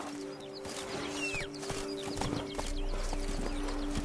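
A horse gallops in The Witcher 3: Wild Hunt, Blood and Wine expansion, rhythmic hoofbeats clopping steadily and close, with game ambience and a brief whinny-like cry.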